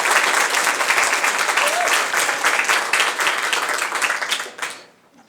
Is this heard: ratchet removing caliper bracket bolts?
no